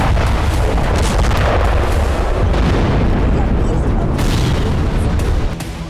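A loud, sustained roaring blast from a Sarmat missile engine explosion at a missile depot fills the clip with dense rumbling noise before it trails off at the end.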